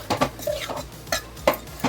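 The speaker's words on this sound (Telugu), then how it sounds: "ఇప్పుడు ఒకసారి కలిపేసుకుందాం ఇదంతా బెల్లము అలాగే శనగబ్యాలు మొత్తము ఒకసారి కలిపేసి" A spoon stirring jaggery and chana dal in a pan for a festive sweet filling, with a few sharp metallic clinks and scrapes against the pan at an irregular rhythm, close and fairly quiet.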